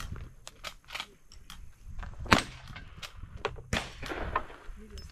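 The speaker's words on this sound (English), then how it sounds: "whenever you're ready, you go ahead and shoot the cannon" Cannon shots at an outdoor shooting competition stage ring out as sharp, loud cracks amid a string of smaller gunfire pops and rustling, with voices nearby.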